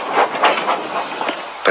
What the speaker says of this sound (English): Edward picked up steam and proudly puffed past Spencer.